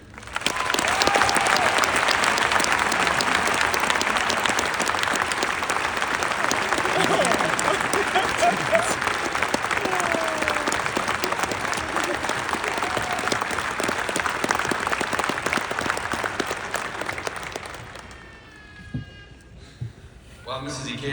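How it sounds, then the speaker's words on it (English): Graduation ceremony audience breaking into long, loud applause, dense crowd clapping sustained for about seventeen seconds before fading out, followed by quieter room sounds and brief speech. "Again, please help me in a round of applause for Mrs. Judy Ikeda."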